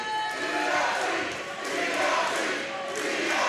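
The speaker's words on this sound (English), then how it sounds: "The crowd here in Campbell Hall saying let them fight." A wrestling crowd in Campbell Hall chants "let them fight" as a loud, steady roar of many voices filling the hall.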